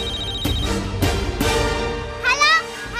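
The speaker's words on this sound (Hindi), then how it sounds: "फोन किसका बजा?" A phone ringtone plays in a busy indoor scene of a Hindi TV serial, its bright warbling tones sounding close and loud over a steady background, ending in a quick trill.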